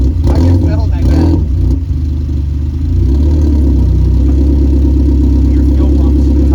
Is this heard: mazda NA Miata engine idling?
yes